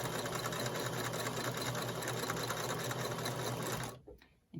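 A sewing machine chain-sewing quilt pieces runs steadily and close for about four seconds, then stops abruptly.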